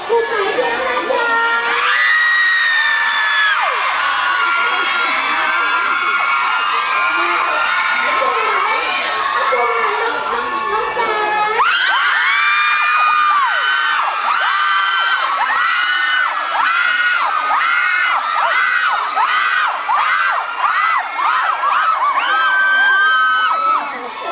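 A large crowd at Big C Rangsit cheers and screams for performers Jack, Phaphaeng and Nat, with high children's shrieks and whoops forming a loud, unbroken roar that swells again midway.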